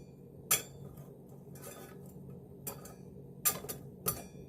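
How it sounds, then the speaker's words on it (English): A small camp pan set down on a jet stove, giving a few sharp metallic clinks and taps spaced irregularly, close and fairly crisp over a quiet background. "Like you have your little camp pan, and you set it down."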